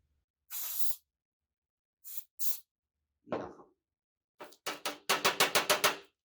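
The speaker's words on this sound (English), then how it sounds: "spray the spoon so it's not sticky" Short hissing bursts of cooking spray onto a big spoon, first a few separate puffs, then a quick run of rapid spritzes, with a soft clatter in between.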